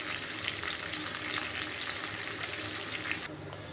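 Salted mixed vegetables for a Gujarati sabzi, including carrots and green beans, fry in a pan with a loud, dense, crackling sizzle, then the sound drops sharply just before the end.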